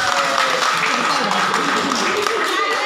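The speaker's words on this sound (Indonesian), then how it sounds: "Tepuk tangan lagi untuk gua." An audience claps at a comedic stage show, a dense, continuous burst of applause lasting a few seconds with voices talking over it.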